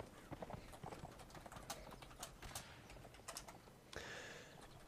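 Union cavalry horses galloping in a Mount and Blade line battle with the North & South mod, a steady run of clattering hoofbeats over a dense battlefield din.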